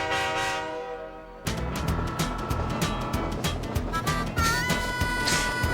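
A train horn sounds on a scenic rail journey through Mexico's Copper Canyon. A long, loud, steady blast is followed by the rumble of the train, and a second horn note comes near the end.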